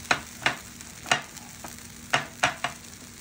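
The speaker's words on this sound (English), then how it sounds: "I just go right into it with a spatula, man. That's just how you do it. Just chop it just like that, man." A spatula chops through a quesadilla on a small home cutting board in sharp, scraping strikes, about seven irregular hits over a few seconds, fairly close and clear with no talking.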